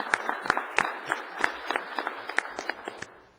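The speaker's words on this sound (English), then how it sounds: "I'd like to give our sponsors a round of applause" Sparse scattered applause from a small audience at a city council meeting, a handful of individual claps in an uneven rhythm that thins out and stops within a few seconds.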